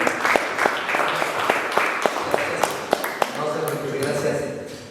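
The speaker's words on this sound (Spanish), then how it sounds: "Un aplauso por favor para él también" An audience applauds a speaker at a Spanish-language talk, a modest group clapping with distinct individual claps audible, fading into a quieter murmur near the end.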